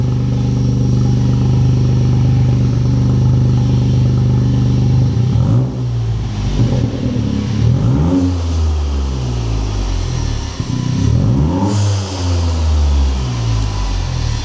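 A Toyota GR Yaris exhaust revs loudly and repeatedly, engine note rising and falling in sharp bursts over a steady rumbling idle, close by.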